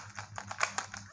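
Clicking turns of a 3x3 Rubik's cube during a solve, a quick run of about eight sharp plastic clacks close by, with no talking.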